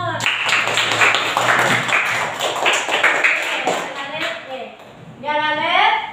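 A school class clapping hands together in a rhythmic pattern with a teacher, close and loud sharp claps, followed by a teacher's voice speaking.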